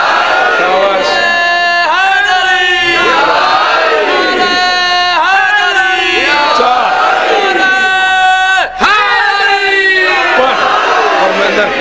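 A Muharram majlis audience chants religious slogans in loud unison, voices rising and falling in repeated swelling waves close by.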